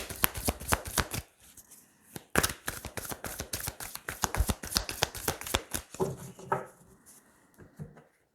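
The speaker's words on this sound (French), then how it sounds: "Allez, on va tirer 9 cartes." Tarot cards are shuffled and drawn close up, with dense riffling flicks in quick bursts, a short pause, then a longer run of crisp card snaps that thins into softer handling at the end.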